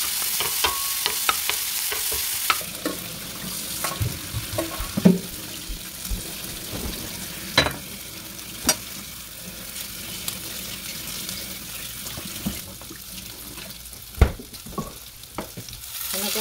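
Bamboo shoots being stir-fried in a pan for adobong labong, a steady close sizzle broken by sharp clatters and scrapes of a utensil against the pan, with brief bursts of running water partway through.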